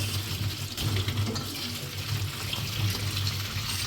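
Running tap water pouring steadily into a sink while mushrooms are scrubbed with a brush, a continuous close rushing wash with no pauses.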